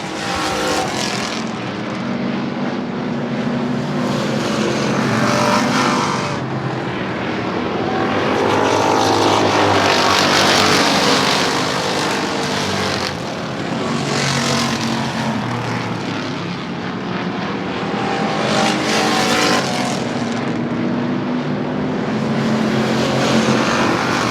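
Race cars roar around the Hermiston Raceway track, a loud continuous engine drone that swells and fades as cars pass and slide through the turns.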